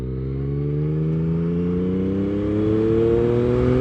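A motorcycle engine revving steadily upward in pitch as the rider accelerates through a gear, a loud, close, continuous drone with no talking.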